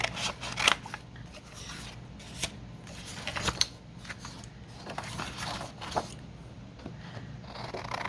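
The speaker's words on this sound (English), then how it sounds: "I think I'll be trimming it off on its height" A paper pocket bookmark being trimmed along its height with scissors, a series of close, crisp snips and paper rustles spread unevenly over several seconds, fairly quiet with no talking.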